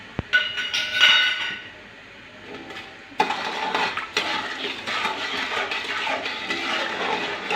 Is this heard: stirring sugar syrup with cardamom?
yes